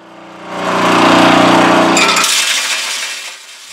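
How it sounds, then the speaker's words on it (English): A high-speed rotary flail soil grinder spins up loudly with a steady mechanical whir and grinding rattle, then its low drone drops away as it winds down near the end. "This is a popular soil grinder used to prepare high volume samples. It consists of a high-speed rotary flail."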